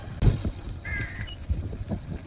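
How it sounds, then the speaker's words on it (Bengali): Crows caw over a rural village in the Sundarbans during the rainy season, a few short harsh calls at moderate distance over low outdoor rumble and faint background noise. "কাকগুলো উড়ে বেড়াচ্ছে।"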